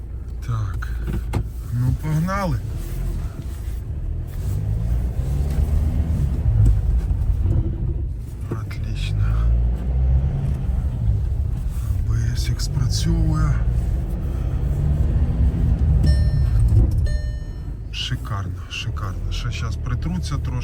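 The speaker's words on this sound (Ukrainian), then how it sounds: "машина їде шикарно" A car with a newly fitted brake system drives along, its low engine and road rumble continuous and fairly loud inside the cabin, while a person talks over the noise.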